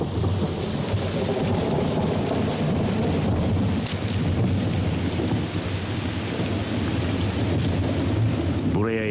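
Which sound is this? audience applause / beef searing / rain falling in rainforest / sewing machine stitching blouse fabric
rain falling in rainforest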